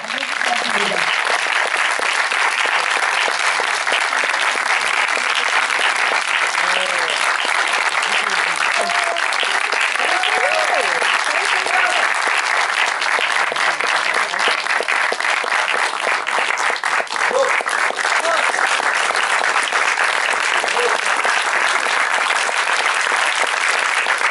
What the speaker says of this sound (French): C'est bon, et ben voilà, applaudissements.